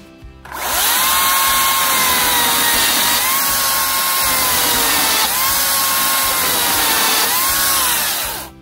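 Makita cordless chainsaw (DUC302 or DUC356) cutting a small branch, a loud steady electric whine that rises at start, dips and recovers in pitch as the chain bites through wood, then winds down at the end.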